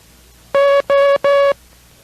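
Three steady electronic Morse code dashes, the letter O sent in CW, each about a quarter second long with short even gaps. The tone is clean and loud against a faint background, and no one speaks.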